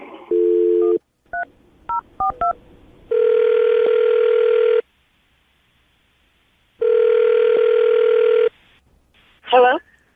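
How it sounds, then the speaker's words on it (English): Telephone call placed live on a radio show: a short dial-tone burst, a quick run of touch-tone keypad beeps, then two long steady ringback tones separated by silence, loud and close, ending as a voice briefly answers. "I'm going to dial the phone number, see if we can get her on the phone"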